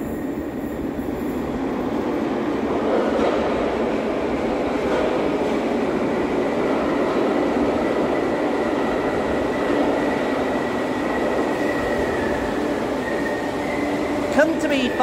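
A Merseyrail Class 507 electric train approaches Kirkdale station with a continuous loud rumble and hum building and holding, a faint squeal at the end, with people talking over it.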